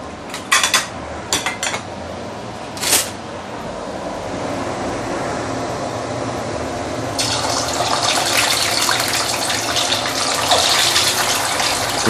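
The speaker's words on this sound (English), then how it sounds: "It's splattering." Chicken wings coated in maltose sugar fry in hot oil, a few sharp crackles and pops at first, then a dense, loud, continuous sizzle and splatter that swells toward the end.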